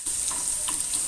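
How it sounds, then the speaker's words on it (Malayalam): Chopped small shallots sizzle in hot coconut oil with mustard seeds in a clay pot, a steady bright crackle with faint stirring scrapes and occasional pops, close and continuous. "1 സ്പൂണ് ചെറിയ ഉള്ളി അരിഞ്ഞ് വെച്ചത്"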